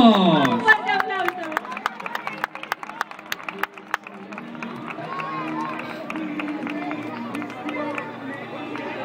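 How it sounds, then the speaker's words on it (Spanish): Crowd applause for prize winners at an Arduino Day awards ceremony, a burst of claps and cheering that starts loud and thins into a steady background of crowd noise and scattered clapping, with voices throughout. "¡Una fuerte ovación para todos ellos! Un fuerte aplauso."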